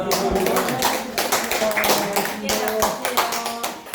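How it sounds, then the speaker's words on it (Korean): Applause of thanks after a closing prayer at a Korean church gathering: a small group claps steadily with distinct, close hand strikes, while voices murmur and call out beneath. "감사의 박수 칩시다"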